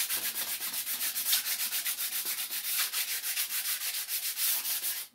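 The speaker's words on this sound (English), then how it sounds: "I take my 180 sandpaper and I just lightly go around these ends, the top of these holes, just to get any little burrs off of them." Light hand-sanding of chair wood with 180-grit sandpaper, a close, rhythmic back-and-forth rasping in quick even strokes that continues steadily until it stops abruptly at the end, with no talking.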